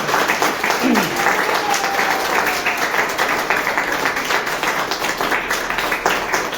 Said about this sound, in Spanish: fuerte de palmas.